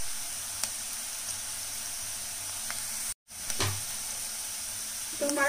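Onions fry in a pan for Punjabi sarson ka saag with a steady, moderate sizzle and hiss that continues throughout, broken only by a brief dropout and a few faint utensil clicks.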